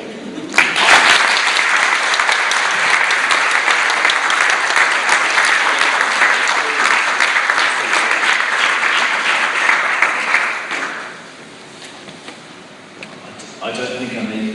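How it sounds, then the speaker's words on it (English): An audience applauds after an 11-year-old student's presentation at a learning technology event: loud, sustained clapping for about ten seconds, then it drops away and a voice begins speaking. "Can we just have another round of applause?"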